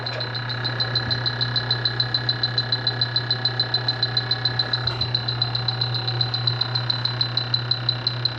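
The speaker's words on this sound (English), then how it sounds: "And that's the trick with this leak detector. See how it speeds up? That's a leaker." Refrigerant leak detector emitting a steady stream of sharp electronic beeps that gradually speed up near a leak, with a constant low hum beneath.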